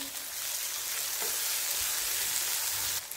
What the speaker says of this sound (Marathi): यामध्ये आता हिरवी मिरची आणि लसूण बारीक केलेलं टाकायचं. परतून घ्यायचं.